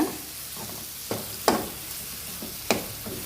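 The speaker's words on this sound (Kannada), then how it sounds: "ಮಸಾಲೆ ಎಲ್ಲ ಚೆನ್ನಾಗಿ ಫ್ರೈ ಆಗಿದೆ ನೋಡಿ" Masala sizzles steadily in hot oil for mutton pepper dry, with chopped coriander leaves just added. A spoon scrapes through it in a few sharp stirring strokes, close up and with no talking.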